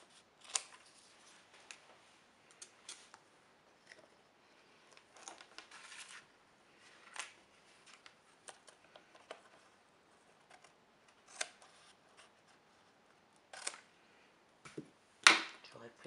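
Scissors trim excess tape from cardboard boards while crafting a murder-mystery game prop, giving scattered quiet snips and clicks with one sharper cut near the end.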